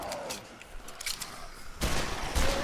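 Gunfire in the video game Dead Island 2 comes as a scatter of sharp, moderately loud shots, quieter early on and then heavier bursts near the end, with no voices.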